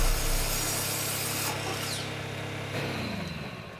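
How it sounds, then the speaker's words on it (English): An in-game grinder in Ark Survival Ascended grinds items with a steady, loud rasping and scraping drone that shifts texture partway through and continues alone without talk. "Turn on. Grind all items."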